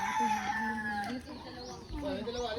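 A native chicken crows in rural Bicol, a drawn-out rooster call rising and falling for a couple of seconds, with clucking and a voice talking in the background.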